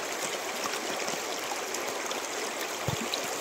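Clear river water of the Noa Dihing flowing near a bamboo bridge, a close, continuous bright rushing and babbling hiss that holds steady without a break.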